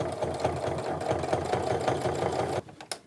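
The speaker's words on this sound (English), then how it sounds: "I'm going to back stitch again when I get to that end, just to get everything nice and secure." A sewing machine top stitches a tote bag with a fast, even chain of mechanical thumps, close and steady, then stops abruptly, leaving a couple of faint clicks.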